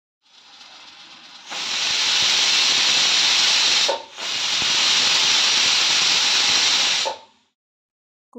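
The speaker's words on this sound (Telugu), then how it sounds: "కుక్కర్ మూత పెట్టి 3 to 4 విజిల్స్ రానివ్వాలి" A pressure cooker of raw toor dal kurma gravy vents steam in two long, loud, steady hissing whistles separated by a short gap. Quieter kitchen background is heard before and after.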